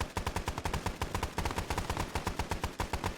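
Rapid automatic gunfire in a video game firefight, a steady stream of sharp evenly spaced shots at about eight per second, loud and sustained, with no talk over it.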